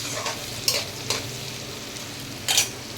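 Whole garam masala spices frying in ghee in a pan, a low steady sizzle broken by a few clinks and scrapes of a stirring spoon, with no voices.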